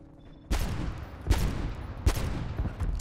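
Three sharp pistol shots in a Black Ops video game strike a wall, spaced under a second apart, each a loud close crack with a short ringing tail over faint background ambience.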